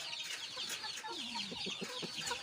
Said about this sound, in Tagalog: Ang dami dito mga boss ang mga manok.